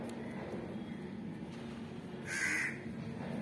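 A crow caws once, loud and near, over a steady outdoor background hum at a spot where water and bird feed are set out.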